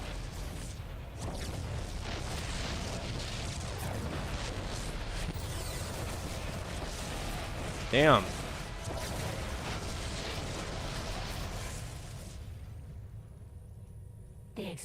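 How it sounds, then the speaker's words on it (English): Dense rumbling explosions from the StarCraft II video game roll on continuously, with a sharp burst near the middle and one short spoken word. The din drops away near the end. "The explosions have stopped."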